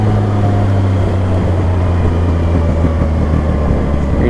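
A CFMOTO 675 SR-R motorcycle engine, suspected of a faulty pump, holds a steady, loud low drone with a continuous mechanical hum and no break across the stretch, with no talk over it.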